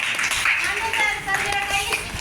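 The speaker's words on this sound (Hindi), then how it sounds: "रोशनी मैम के लिए जोरदार तालियां" An audience claps for winners at a prize-giving ceremony, brisk close hand claps over a couple of seconds with voices talking through them.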